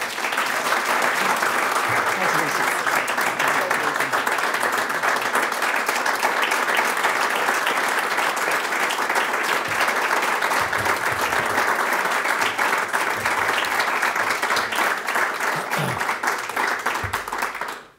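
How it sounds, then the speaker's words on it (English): Sustained applause from a large stadium crowd at a Notre Dame football game, honoring the winner of the Rev. William Corby Award: loud, dense, steady clapping that fills the space for about eighteen seconds, then cuts off abruptly. "Save all that clapping for the Irish win"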